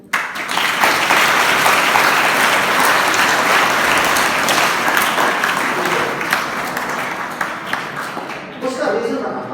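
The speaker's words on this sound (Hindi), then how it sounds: "इसके लिए ताली बजाइए।" A large audience at a motivational talk breaks into loud, sustained applause, a dense continuous clatter of many hands that holds steady for several seconds before thinning, with a voice emerging near the end.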